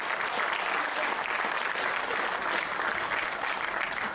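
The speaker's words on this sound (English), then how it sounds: "Big round of applause for this gentleman." Sustained, dense applause from a large audience at an innovation and entrepreneurship conference in India, honoring a speaker, steady and even throughout with no break.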